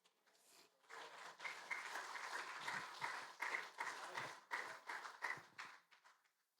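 A church congregation clapping for the Lord during a sermon, a quiet wash of many hands rising after a second and continuing unevenly for several seconds before fading out.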